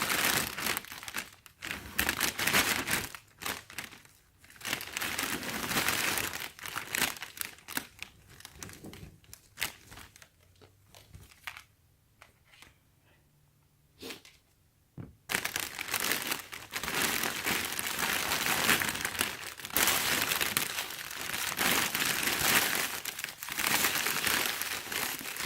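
Gift box for the Lunar New Year being unwrapped, close crinkling and rustling of packaging as a ribbon bow is untied, steady handling noise with a brief quieter pause midway.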